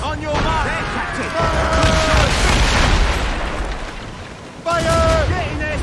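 Naval cannon fire in Assassin's Creed Rogue, heavy booming shots and rumbling impacts in a sea battle, with crew voices shouting over the barrage.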